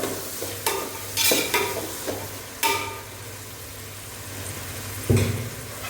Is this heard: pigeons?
no